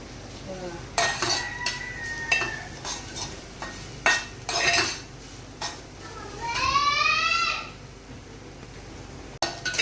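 Grated fresh coconut frying in a little oil while being stirred, with repeated sharp metal scrapes and clinks of a utensil against the pan, close and fairly loud, over a faint sizzle.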